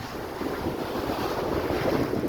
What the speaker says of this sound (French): Magnifique les vagues.